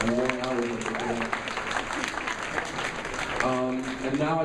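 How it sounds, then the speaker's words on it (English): Audience applause at an NJIT Muslim Student Association event, a steady wash of clapping from a crowd with voices mixed in throughout. "I think they deserve a round of applause for the decorations and the long hours that they put in"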